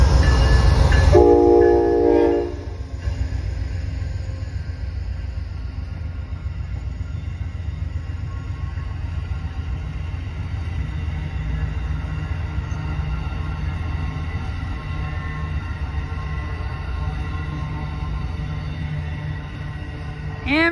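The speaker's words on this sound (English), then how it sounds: "January 16, 2022, northbound Amtrak 54 Vermonter. Location is Greenfield, Massachusetts." The northbound Amtrak Vermonter, led by P42DC diesel locomotive 104, passes through Greenfield, Massachusetts in January: a loud, brief horn blast opens, then a long, steady close-range rumble and roar of the train rolling by.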